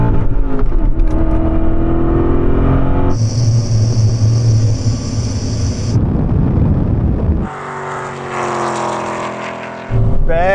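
BMW E39 M5 and Alpina B10 in a rolling drag race from 30 mph, engines roaring hard under acceleration with rising revs, a clear gear change, and wind buffeting on the microphone.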